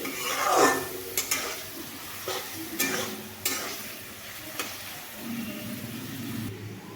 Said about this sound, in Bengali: মশলাটিকে আমি বেশ ভালোভাবে কষিয়ে নিচ্ছি